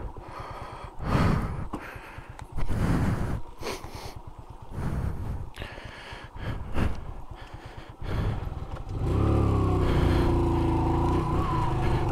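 Motorcycle stuck in a mud bog, engine revving in uneven bursts with heavy breathing between, then a sustained loud rev at the end.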